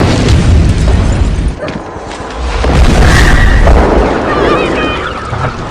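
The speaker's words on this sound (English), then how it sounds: "suddenly an explosion disrupts their party" A loud, rumbling boom fills the clip, with dense low roar and debris-like crackle continuing throughout, close and overwhelming.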